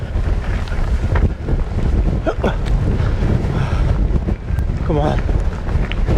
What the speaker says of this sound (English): Oh my god, this wind.